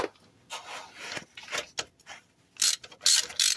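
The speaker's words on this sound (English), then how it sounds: "we gotta go ahead and get these top bolts out of here" A ratchet clicks close up while loosening the top bolts on a 1998 Ram 1500 axle. It comes in short uneven bursts of pawl clicks with brief pauses, and gets louder and faster toward the end.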